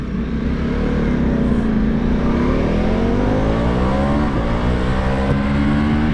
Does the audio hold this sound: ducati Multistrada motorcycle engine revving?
yes